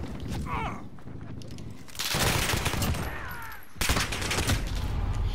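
Rapid bursts of gunfire from guns including an MP5 in a shooter video game, loud and steady, starting up in a heavy run around the middle, briefly cutting out, then resuming just as hard.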